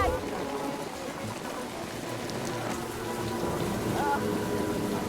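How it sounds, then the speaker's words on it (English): Torrential rain in Hawaii falls in a steady, dense hiss that stays even and loud throughout, with scattered patters and drops and no voices. "it rains in torrents for a month"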